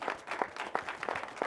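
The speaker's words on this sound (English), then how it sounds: "could I also get a round of applause for the creatives that we have here?" Audience applause at a film festival event, moderate clapping with a few sharper claps recurring at regular intervals, fairly close and without speech.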